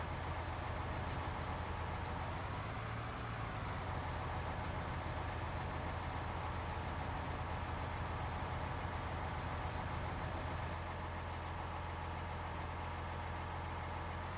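Steady tractor engine running in Farming Simulator 19 during multiplayer farming on the Goldcrest map, a constant low idling drone with a slight rise in pitch midway, loud and continuous without talk.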